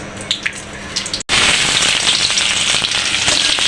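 Whole cumin and bay leaf tempering in hot oil, starting with faint crackles and then a sudden loud, sustained burst of dense sizzling and spitting once the spices hit the pan.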